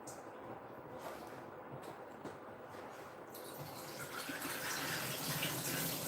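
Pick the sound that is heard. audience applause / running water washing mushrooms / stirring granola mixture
running water washing mushrooms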